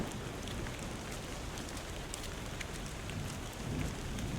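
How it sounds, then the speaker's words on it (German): Rain pours in the video game Tainted Grail: Fall of Avalon, a continuous broadband wash of falling water with scattered droplet ticks, steady throughout and unaccompanied by speech. "Hoffen wir natürlich, dass der Regen bald wieder aufhört."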